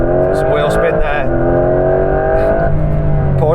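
Porsche 911 Carrera 4 GTS launching from 0 to 60 mph on a damp track, its engine revving hard and rising in pitch through the gears, loud and close, with brief bursts of voice over the roar.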